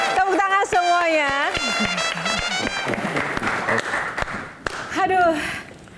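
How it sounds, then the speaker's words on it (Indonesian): Studio audience clapping to welcome guest panelists on a talk show, sharp claps alongside a loud, animated voice speaking over them, the applause thinning out toward the end. "Tepuk tangan semuanya."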